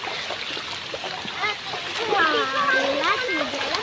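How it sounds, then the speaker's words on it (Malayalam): A swollen, fast-flowing stream after heavy rain and flooding makes a continuous rushing wash of water, while a person's voice speaks over it in the second half. "ഇപ്പൊ വെള്ളം ഒന്ന് കുറഞ്ഞിട്ടുണ്ട് നല്ല ഒഴുക്കുണ്ട് വെള്ളത്തിന്"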